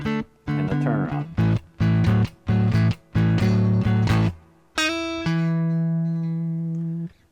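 An electric guitar plays a short blues turnaround: a run of choppy, evenly spaced chord stabs with brief gaps, then a held final chord ringing out and fading, loud and close with no talking.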